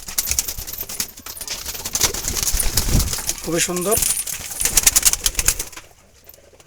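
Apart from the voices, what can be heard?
Jalali wild pigeons cooing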